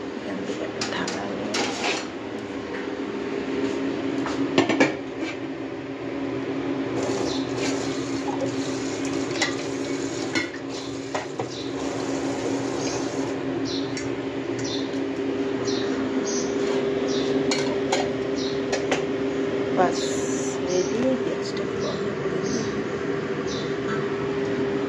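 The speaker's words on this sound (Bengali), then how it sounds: "একটা কাঁটা চামচ ধুয়ে রেডি করে রেখে দিয়ে যাই" A fork being washed under a running kitchen tap, a steady wash of water with scattered light metallic clinks from the sink, continuing throughout with no talk over it.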